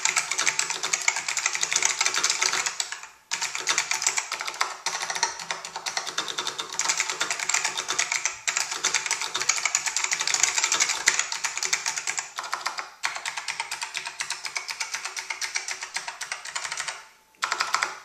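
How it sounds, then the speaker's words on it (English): Rapid, steady typing on a Matias Tactile Pro 3 keyboard with clicky, tactile White Alps switches, producing a dense stream of sharp clacks with two brief pauses, close and clear with no voices. "these are White Alps key switches"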